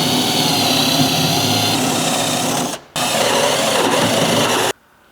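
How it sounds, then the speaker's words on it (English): A step drill bit grinds loudly through metal on a BMW G-Series M2 in a steady, continuous whine, pausing briefly once before resuming, then stopping abruptly. "We have now grabbed our step drill bit."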